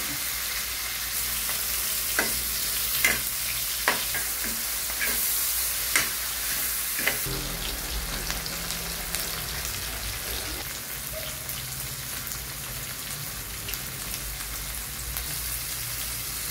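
Tomato, ginger and onion fry in a pan, a steady sizzle with irregular scraping taps from stirring throughout, close and fairly loud.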